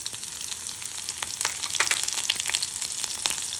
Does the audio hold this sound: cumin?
yes